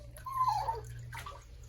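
Water runs and splashes in a bathtub while a Pomeranian puppy is washed, a steady close wash of sound with a brief higher tone partway through.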